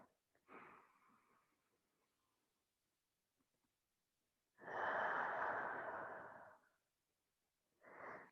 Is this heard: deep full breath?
yes